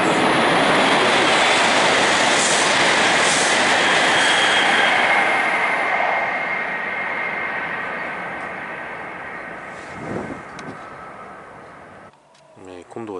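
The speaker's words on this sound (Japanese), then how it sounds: "まもなく11番乗り場、列車が通過します。" Kyushu Shinkansen bullet train rushing through Chikugo-Funagoya station at high speed, a loud roaring whoosh that gradually fades away, followed by a brief rumble and clatter near the end.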